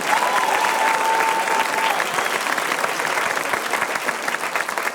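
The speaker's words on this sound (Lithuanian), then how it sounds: "Plojimai Markui Žukauskui." A television game-show studio audience claps in sustained, dense applause that stays loud and even for the whole stretch, with a brief steady tone early on.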